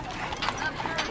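A matched team of draft horses walking at a Mule Day event in Columbia, Tennessee, hooves clip-clopping at a moderate pace amid crowd noise and talking.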